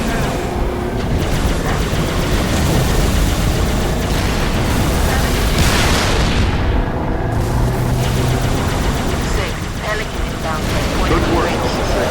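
Heavy explosions and rumbling air-strike blasts from a bombing run in the Halo Reach video game, loud and continuous with roaring engine and battle noise, while radio voices talk over it.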